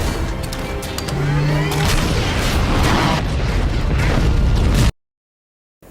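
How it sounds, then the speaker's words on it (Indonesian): The Ten Rings base in Iron Man (2008) goes up in a huge explosion, a loud, sustained roar of blasts and rumbling booms with crackling debris, ending in abrupt silence. "Tony pun berhasil keluar disusul dengan meledaknya markas Ten Rings"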